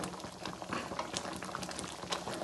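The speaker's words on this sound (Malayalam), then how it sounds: "നന്നായി ഒന്ന് ഇത് തിളക്കട്ട്" Lemon pickle mixture bubbles in a pan at a steady, close, dense boil, with continuous crackling and popping and no voices.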